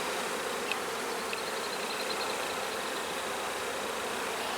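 Honey bees buzz steadily around an open hive frame of drawn comb filled with nectar, a dense continuous drone that stays loud and close throughout with no talking.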